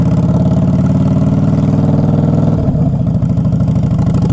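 A 2011 Harley-Davidson Fat Boy Lo motorcycle engine loud and close, a steady low thumping idle-like rumble that drops in pitch partway through as a gear is shifted, then continues with a lower, choppier beat.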